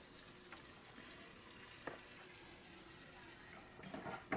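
Chop suey vegetables dropped into a hot pan fry with a steady, even sizzle, a few brief stirring clatters breaking through near the end.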